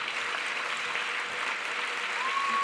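Graduation audience applauding the ceremony's guest speaker, a steady hiss of many hands clapping at moderate distance, even and sustained throughout with no talk over it.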